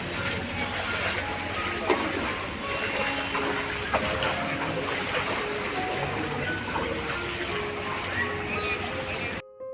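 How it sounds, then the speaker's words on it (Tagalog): Floodwater sloshing and rushing through a flooded street in Dubai after heavy rain, a continuous churning wash with waves lapping, steady and fairly close, with people talking over it and a brief cut at the very end. "Parang nasa dagat pa tayo, mayroon pang alon."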